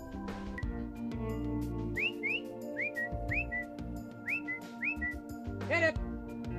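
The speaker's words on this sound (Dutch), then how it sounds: "hoe de herder al fluitend communiceert met zijn honden" A shepherd whistles commands to his sheepdogs, a series of short rising and falling whistles, sharp and repeated in quick pairs, over a steady hum, ending with a louder warbling whistle.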